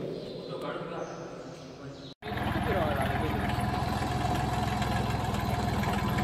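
A tractor engine starts after a short pause and runs close and loud with a steady rhythmic chugging, while a voice talks briefly before it kicks in.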